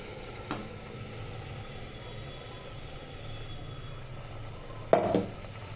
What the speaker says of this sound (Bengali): এই অবস্থায় আমি এই যে চালটা এবার ছেড়ে দিলাম।